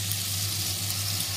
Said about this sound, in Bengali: এরপর কড়াইতে পেঁয়াজ দিয়েছি, পেঁয়াজ ভাজছি, আর একটা শুকনো লঙ্কা ফোড়ন দিয়েছি। এবার পেস্ট করা রসুনটা দিয়ে দিলাম।